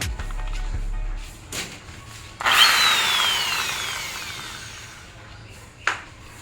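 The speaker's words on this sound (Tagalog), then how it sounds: "nakabit na natin yung drill bit. So ayan na. Start na po natin butasan." A power drill bores a hole for a screen door handle, a few short whirs and then a sustained, close grinding run that trails off, ending with one sharp short burst.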